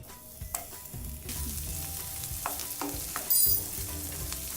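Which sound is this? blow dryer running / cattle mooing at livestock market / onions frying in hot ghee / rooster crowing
onions frying in hot ghee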